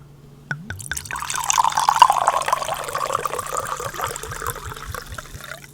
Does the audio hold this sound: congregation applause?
no